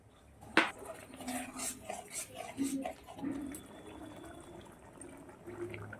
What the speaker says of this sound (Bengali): এবারে আমি দিয়ে দিচ্ছি একটু গরম জল করে রেখেছি সেই গরম জলটা অল্প একটু